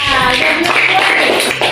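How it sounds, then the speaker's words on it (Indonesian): Students in an eighth-grade English class applaud a classmates' group, a brief dense burst of clapping with a voice faintly underneath. "Tepuk tangan untuk kelompok Dwi Andika"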